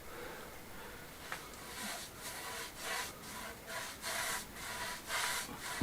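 Oil is rubbed onto wood with repeated back-and-forth strokes that form a steady scraping rhythm close up, with no talking.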